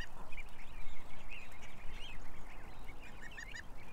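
Ducks quacking on a farm: repeated short raspy quacks from several birds over a steady background hiss, moderately close and sustained throughout.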